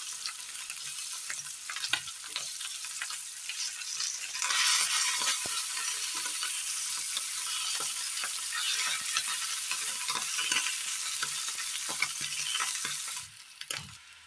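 Dried fish frying in a pan as it is turned over, giving a steady close sizzle with scraping and stirring clicks throughout, no talk.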